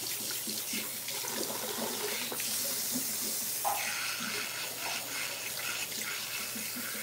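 Running water pours steadily from a tap as gel is rinsed out of hair in a salon sink, a continuous soft splashing hiss with faint handling noises underneath.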